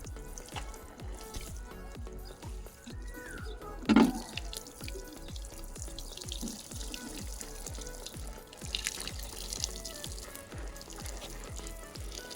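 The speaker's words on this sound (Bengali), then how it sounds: "এখন যেহেতু লাগানো হয়েছে এই জন্য একটু করে পানি দিয়ে দিচ্ছি।" Water is poured onto newly planted garden plants, a faint, steady trickle and splash with a soft rhythmic patter and an occasional louder gush.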